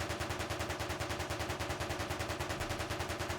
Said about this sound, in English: So we've got the main machine gun,